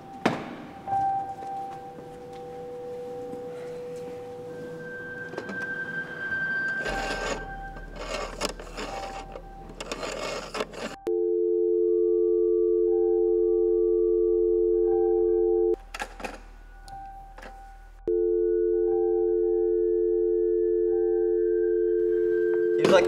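A landline telephone gives a steady busy tone, loud and close, running unbroken for several seconds, pausing briefly, then resuming. It comes after handling noises, clicks and faint room sounds.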